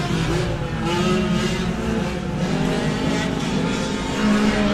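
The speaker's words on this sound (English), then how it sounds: "Probably the loudest car I've ever heard just went by." A loud race car roars past at a race track, its engine a dense, continuous, close rumble that holds strong throughout and swells slightly at the end.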